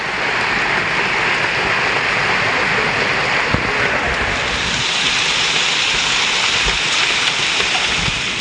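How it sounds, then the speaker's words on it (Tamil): Heavy rain pours down in Madurai, a loud, dense, steady hiss of downpour with scattered closer drops and splashes, continuing unbroken for over eight seconds with no talking. "கனமழை"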